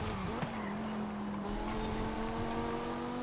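A car in Forza Horizon drives along at a steady, restrained pace, its engine a sustained drone with a faint rising pitch, close and continuous over low rumbling wind-like noise, no voices.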